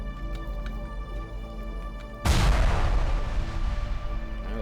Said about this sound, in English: was an explosion somewhere.